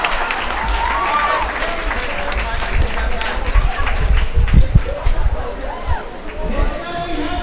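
Audience applause and cheering in a crowd at a school event, a dense, loud burst of clapping mixed with scattered shouts and chatter, with an announcer's voice over the noise.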